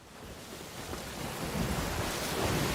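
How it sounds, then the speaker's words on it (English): A stormy downpour in a video game, with a steady broadband wash of rain and rumbling thunder that swells slightly louder toward the end, with no talking. "There's a storm coming."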